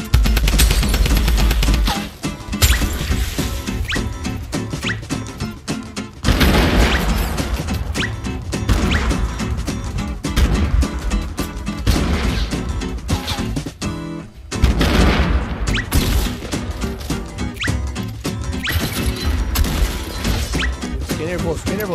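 Loud, dense video game gunfire with rapid bursts and crashing impacts, nearly continuous over several seconds, with brief lulls and some voices mixed in, during a high-ground fight in a battle royale game.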